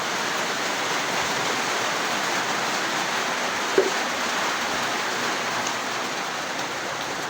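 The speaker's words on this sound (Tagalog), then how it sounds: "Yan, lumakas ng ulan, guys." Heavy rain pours down steadily in a dense, even hiss, loud and continuous, with a single small knock partway through and no one speaking.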